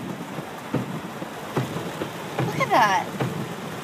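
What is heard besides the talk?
heavy rain during flooding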